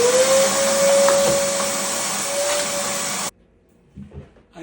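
A vacuum cleaner runs loud and close while cleaning up a woodworking workshop, giving a steady roaring whine for about three seconds before it cuts off abruptly, leaving faint shuffling handling noises.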